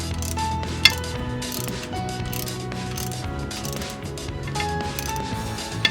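Ratchet clicking while driveshaft bracket bolts come out of a Jeep WJ with a Dana 35 axle, quick repeated pawl ticks in short bursts, close and moderately quiet in a garage.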